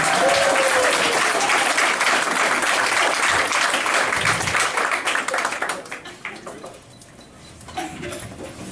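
Loud, dense applause from a comedy club audience, steady clapping that fades and thins out toward the end.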